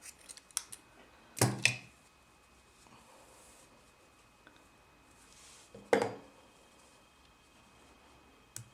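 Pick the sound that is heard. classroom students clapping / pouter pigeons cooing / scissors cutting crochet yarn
scissors cutting crochet yarn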